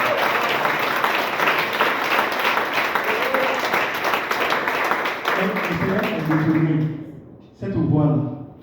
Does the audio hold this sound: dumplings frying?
no